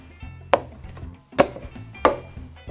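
Three sharp knife chops through bananas on a cutting board for banana oat pancakes, close and crisp, spaced unevenly over a faint low hum.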